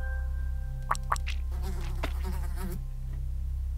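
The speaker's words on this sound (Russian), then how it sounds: "Я слышу муху." Fly buzzing in the horror game Bad Dream: Coma: a thin, wavering insect drone that swells and fades over a low steady hum, close and alone with no talk.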